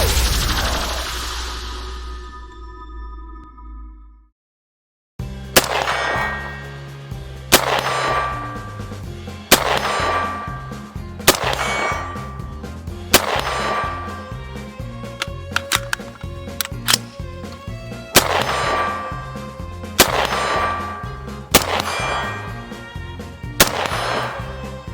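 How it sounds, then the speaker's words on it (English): A rifle fires Russian Barnaul .223 62-grain hollow-point steel-cased ammunition in about ten sharp, loud shots at irregular intervals, each followed by ringing clangs of ejected steel casings, after a brief silence at the start. "so they cycle properly out of both those types of magazines. It's ejecting well, it's feeding well,"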